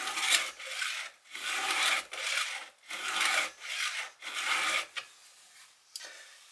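A round file rasps along the chain of a STIHL MS 261 chainsaw held in a vise: about six steady, even strokes in a regular rhythm, close and fairly loud, with brief pauses between pulls and no talking.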